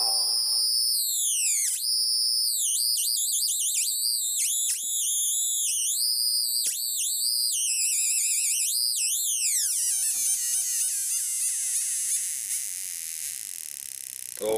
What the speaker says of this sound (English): Let's get obnoxious with some sound.